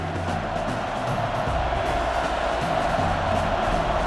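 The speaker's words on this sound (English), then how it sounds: "And this crowd is going crazy." A stadium crowd in the NCAA Football 09 video game roars in a steady, dense wall of cheering, sustained and even across the few seconds with no distinct voices standing out.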